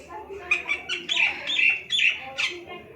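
A small bird calls in a series of short, bright chirps and squawks, close and fairly loud, repeating at irregular intervals with no talking.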